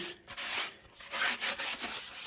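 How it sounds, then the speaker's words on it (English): A Scrub Daddy sponge with Barkeeper's Friend scrubs a kitchen sink, making close, gritty back-and-forth rubbing strokes in a steady rhythm with brief pauses between strokes. "you'll just take Barkeeper's Friend and Scrub Daddy and rub it in, and it'll get rid of most of the staining and food"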